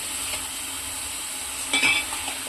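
Tamarind fish curry stirred in a pan on the stove: a steady soft simmering sizzle, with a brief scraping clink of the spoon near the end and no voices.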